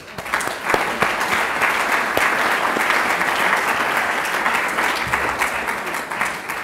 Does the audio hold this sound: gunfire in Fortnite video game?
no